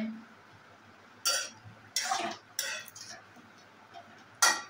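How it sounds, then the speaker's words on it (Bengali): A spoon stirs boiling taro in a cooking pot, giving a handful of sharp, separate metallic clinks and scrapes spaced a second or so apart over a low, steady simmering hiss. "চামচ দিয়ে একটু লাড়া দিয়ে"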